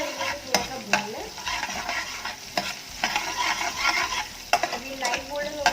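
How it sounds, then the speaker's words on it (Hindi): Spices being sautéed in a pan while a utensil scrapes and stirs repeatedly, with a steady close sizzle under the irregular scraping strokes and a few sharper clinks. "आप इसको अच्छी तरीके से थोड़ा सा भून लें।"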